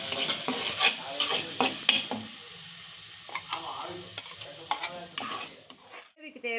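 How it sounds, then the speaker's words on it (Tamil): Ground curd poured into a hot pan of capsicum and onion gravy sizzles loudly, with scraping stirs and bursts of frying noise that fade near the end, close up and without talk. "இப்போ இந்த அரைச்ச தயிரை நம்ம அதில் விடலாம்"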